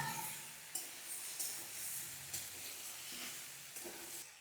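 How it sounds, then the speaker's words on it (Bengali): Tomato fries in a pan for a cauliflower curry with a soft, steady sizzling hiss and a few faint stirring taps, heard alone at low volume. "এবার আরও কিছুক্ষণ ধরে এটা ভাজতে হবে"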